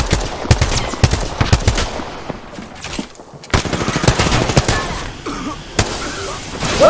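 Automatic weapon fire crackles in bursts during an Apex Legends match: rapid volleys, a pause around the middle, then more shots with game effects.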